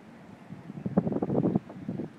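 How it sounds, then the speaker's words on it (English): Gusty wind buffets the microphone in low rumbling bursts, rising and falling over a couple of seconds, by the sea at a coral reef on Moorea. "It's a little windy, so it's not the calmest"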